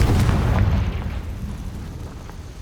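A Confringo explosion spell goes off in a Harry Potter–style video game, a deep booming blast up front that rumbles and slowly fades over a couple of seconds, with no talk.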